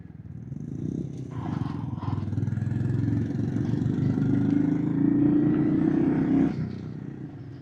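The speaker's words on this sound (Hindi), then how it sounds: "बाइक जा रही है पहले गियर पे," A motorcycle in first gear on a mountain road toward Adi Kailash gives off a steady mid-pitched engine drone with faint clatter for several seconds, recorded from the bike itself and fairly loud.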